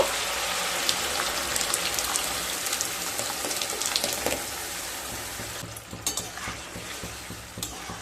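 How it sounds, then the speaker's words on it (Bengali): Moong dal cooking with cauliflower in a pan as boiled dal is added, a continuous close sizzle and stir with wet spattering, and a few louder splashes and clatters near the end. "এবার সেদ্ধ করে রাখা ডাল দিয়ে দেব।"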